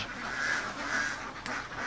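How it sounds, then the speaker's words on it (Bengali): Khaki Campbell and Pekin Star ducks at a duck farm, a few nasal quacks rising over a steady murmur of the flock, moderately close. "গড়ে তুলেছেন একটি বিদেশি হাঁসের খামার, যেখানে রয়েছে ইংল্যান্ডের খাকি ক্যাম্বেল ও ফ্রান্সের প্যাকিং স্টার জাতের উন্নতমানের হাঁস"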